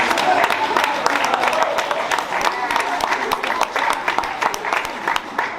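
A room of rugby club members bursts into sustained clapping for Anthony, a new recruit coaching the ten-a-side team at the season launch, steady hand claps lasting several seconds with some voices underneath.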